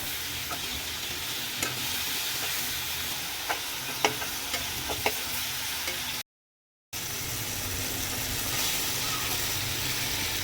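Prawns sizzle in a hot pan with a steady hiss and faint crackle, a few sharp clinks of the spatula along the way, and one brief moment of silence before the frying continues.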